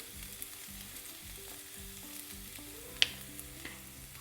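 Capsicum pieces frying in a pan for capsicum rice, a soft steady sizzle with a faint low hum underneath and one sharp utensil tap partway through, close and quiet, no voices.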